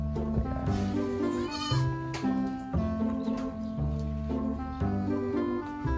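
Goats bleat repeatedly on a Philippine farm, in a pen that once held a water buffalo and now holds goats with newborn kids. Layered, wavering cries overlap continuously at close range, loud throughout and with no talk.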